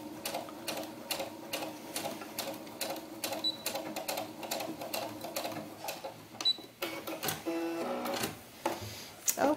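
Sewing machine back stitching through doll bodice fabric, a steady rapid mechanical clatter of needle strokes running throughout at moderate closeness, with brief pauses and shifts in pace near the end.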